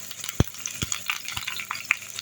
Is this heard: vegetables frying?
yes